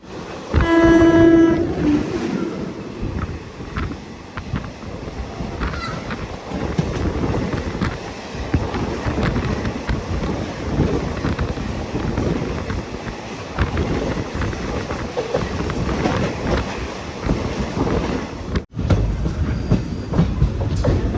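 The Mangaluru–Tambaram Express passes straight through a small station without stopping, opening with a loud horn blast before the long rush of carriages and rhythmic clickety-clack of wheels rolls by close at hand.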